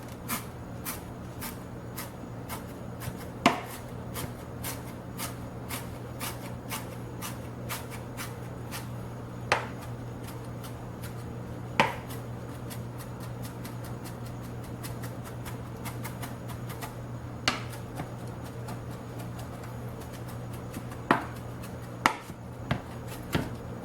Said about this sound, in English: start chopping again